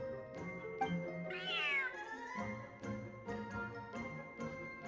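A cat in Genshin Impact meows once, a clear, fairly close rising call standing out over soft game music and faint chiming tones.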